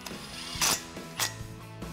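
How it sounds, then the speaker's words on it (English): A 3/8-inch impact wrench at very low torque drives a 10mm brake line bracket bolt on a 2021-2022 Ford Bronco, with two short sharp rattling bursts, close and loud over a quiet garage background. "Final step again is going to be reattaching our brake line bracket, 10mm bolt. Very low torque on my 3/8 impact."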